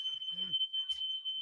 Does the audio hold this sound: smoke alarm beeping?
yes